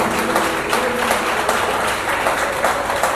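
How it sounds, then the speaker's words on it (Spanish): Church congregation applauding steadily in dense, continuous clapping that holds at an even level throughout. "Denle un fuerte aplauso a Jesucristo."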